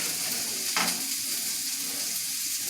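Green beans sizzle steadily in a frying pan as a constant hiss of frying, with a brief stir or clatter near the start and no talking.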